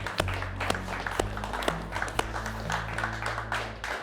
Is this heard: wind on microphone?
no